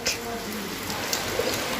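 Rain falls outside in a steady, soft hiss that fills the whole stretch, while a pigeon or dove coos faintly in the background.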